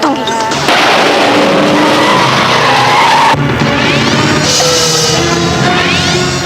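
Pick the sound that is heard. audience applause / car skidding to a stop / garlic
car skidding to a stop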